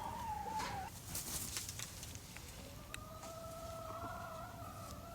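Chickens cluck and crow nearby in a farmyard, with a short rising call at the start followed by a longer drawn-out crow later, over faint background noise with no talk.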